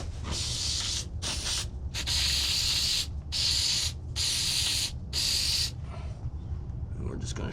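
Several loud bursts of spray adhesive hiss from a can onto Can-Am ATV seat foam, each lasting about a second, with short gaps, close by.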